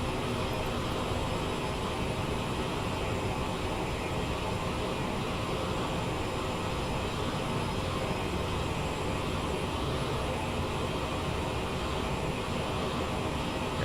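CRJ700 jet climbing in MSFS 2020, giving a steady broadband cabin engine roar, continuous and unchanging throughout.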